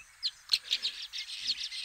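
A speckled mousebird calls with a rapid series of thin, high chirps in quick succession, clear and moderately close, with no other sounds around them.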